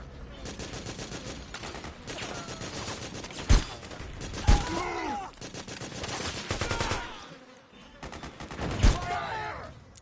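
Dense bursts of video game gunfire in Metal Gear Solid 4, with rapid automatic fire and several sharp louder shots over a busy battle mix, while voices shout throughout.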